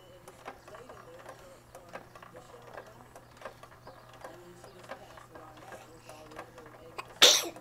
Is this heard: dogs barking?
no